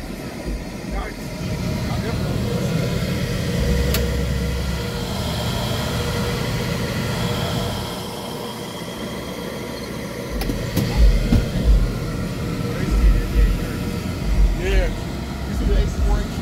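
A car engine held at full throttle, its alternator pushed to excessive amperage, gives a loud, sustained close roar; heavy low pulsing thumps join it toward the end.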